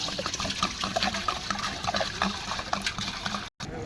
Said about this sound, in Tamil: பானை வச்சு தண்ணி ஊற்றிட்டுருக்காங்க